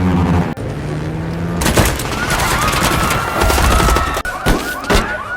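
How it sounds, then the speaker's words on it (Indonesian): A loud, dense burst of rapid machine-gun fire rattles continuously in the film The Contractor, mixed with a wailing siren and chaotic action sounds. "tiba-tiba pria yang ada di mobil tersebut memberondong James dengan tembakan"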